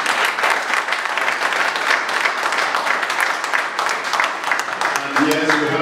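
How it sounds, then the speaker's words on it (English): Conference audience clapping for a panel on energy efficiency in Nigerian industries, a steady round of applause from a seated crowd that carries on throughout, with a voice beginning to speak near the end. "Please join me in a round of applause for the panel."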